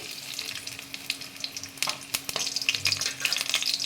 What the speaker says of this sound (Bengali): এবার আমি তেলের মধ্যে কিছুটা জিরে দিয়ে দিলাম কিছুটা রসুন কুচি দিয়ে দিচ্ছি